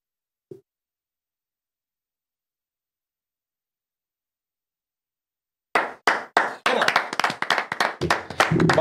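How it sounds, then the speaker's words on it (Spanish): After a long near-silence, a small group at a table claps for a card trick, starting with several separate claps and building into quicker, overlapping clapping near the end, close and fairly loud. "Se aplaude."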